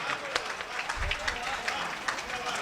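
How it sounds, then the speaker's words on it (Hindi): Audience applause at a Hindi humorous poetry recital: steady, dense clapping from a crowd, fairly even in level throughout, with some voices mixed in. "वाह जोरदार तालियां।"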